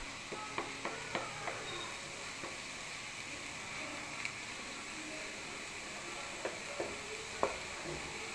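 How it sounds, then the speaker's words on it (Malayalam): Tomatoes, onions and green chillies sautéing in a pan, heard as a faint, even sizzle broken by a few sharp ticks and clinks of a utensil, close and quiet. "നമ്മുടെ തക്കാളിയും സബോളയും പച്ചമുളകും ഇതൊക്കെ ഒന്ന് വഴന്നിട്ടുണ്ട്."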